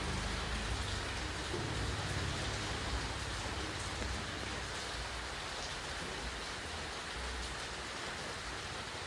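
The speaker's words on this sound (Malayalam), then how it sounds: "സൂപ്പർ അടിച്ച് മഴ വരുന്നുണ്ട്" Heavy rain pours down in a dense, unbroken roar of drops on surfaces, steady and enveloping for the whole stretch with no voices.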